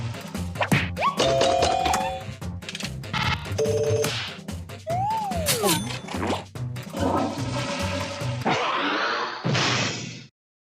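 A toilet flush rushes and gurgles near the end, loud and close, after a busy run of ringing tones, thunks and electronic effects.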